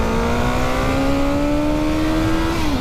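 A 1985 Honda Nighthawk motorcycle with a 65-horsepower engine accelerates hard, its steady engine drone rising in pitch before easing near the end, loud and close with no talk.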